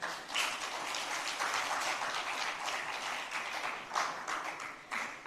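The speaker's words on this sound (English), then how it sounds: "the first applause really should be to everyone who's still seated right here" Audience applause at a democracy-themed fireside chat, a steady wash of many hands clapping that holds at moderate level across the room for about five seconds, with a couple of brief swells.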